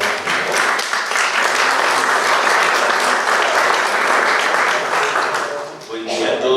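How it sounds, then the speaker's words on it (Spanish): Loud, sustained applause from a congress audience at an anticorruption event, dense clapping throughout that dips briefly near the end before swelling again. "Un fuerte aplauso, por favor."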